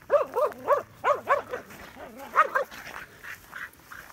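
A herding dog working cattle gives a rapid series of short barks and yips close by, evenly paced at first, then thinning out and fading.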